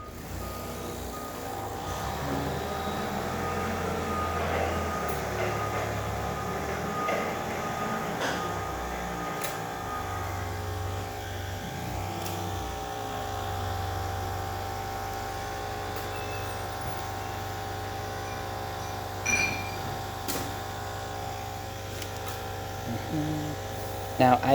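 An Olympia Cremina espresso machine pulls a shot, giving a steady mechanical hum with a faint whirr and a few light clicks and clinks over about twenty-five seconds, fairly quiet and continuous.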